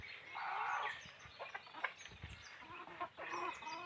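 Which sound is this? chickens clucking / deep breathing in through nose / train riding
chickens clucking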